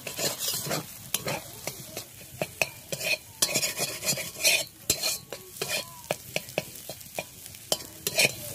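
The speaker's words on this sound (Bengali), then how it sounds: "এবার ডিমটাকে আমি নাড়াচাড়া করে ভুজিয়া তৈরি করে নিচ্ছি" Egg is stirred and fried into a scramble in a wok, giving a close sizzle under repeated sharp scrapes and clinks of the spatula against the metal, with no talk.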